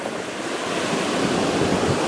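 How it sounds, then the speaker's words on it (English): Andaman Sea surf breaking at the southern tip of Phuket, Thailand: a close, loud, continuous wash of waves swelling slightly, with wind buffeting the microphone. "One man stands alone against these waves."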